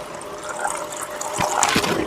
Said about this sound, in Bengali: এবার দেব কিছুটা জল।